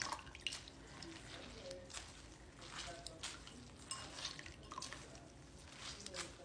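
Liquid drips and trickles from a freshly harvested green loofah squash, a steady spattering of small drops close by with light handling noises mixed in.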